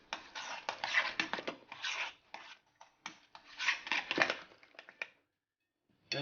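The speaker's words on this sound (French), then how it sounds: "on mélange ça pour avoir une purée bien lisse" Mashed sweet potatoes with cream, salt, pepper and nutmeg worked with a utensil into a smooth purée, giving irregular bursts of close, wet scraping and squishing that pause briefly near the end.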